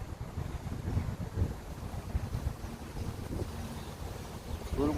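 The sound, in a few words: wind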